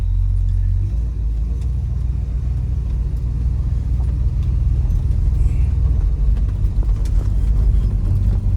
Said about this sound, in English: engine under the hood, she runs good.